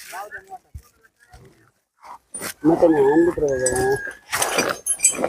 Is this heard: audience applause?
no